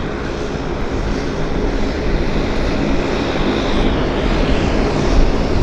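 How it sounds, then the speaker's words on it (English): A Dash 8 turboprop charter plane at Vancouver airport gives off a loud, steady propeller and engine roar that swells a little toward the end. "Charter machine, Dash 8."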